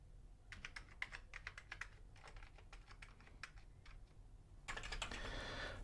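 Keys on a restored Amiga 500 keyboard are pressed one after another, giving quick uneven runs of light clicks that end in a dense flurry of rapid key presses, close and fairly quiet.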